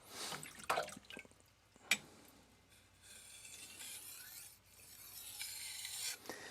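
A Tojiro Professional R2 santoku knife scrapes across a whetstone in quiet, irregular rasping strokes, with a couple of sharp clicks near the start and soft wet rubbing between them.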